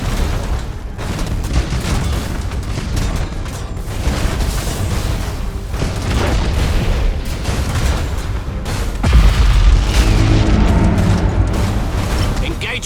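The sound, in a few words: Thunderhawk bombardment explosions in Battlefleet Gothic: Armada 2 video game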